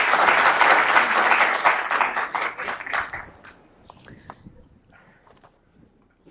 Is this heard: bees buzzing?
no